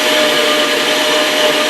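An electric meat grinder fitted with its finest grinding disc runs on strips of torn dried meat, giving a steady, loud motor whir with no breaks, heard close up and alone.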